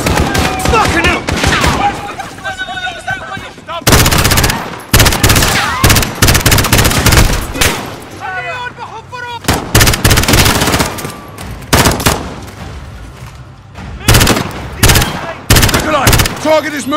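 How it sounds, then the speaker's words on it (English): Loud bursts of machine-gun fire crackle through a chaotic combat scene, rapid volleys coming in repeated salvos with short gaps, and shouting voices appear between the bursts. "The gunshots, of course."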